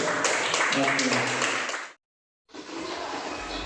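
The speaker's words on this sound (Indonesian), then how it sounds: "Tepuk tangan untuk kita semua Pak." A room of people at a gathering clap together in a dense, loud burst that cuts off abruptly, then resumes after a brief silence at similar strength.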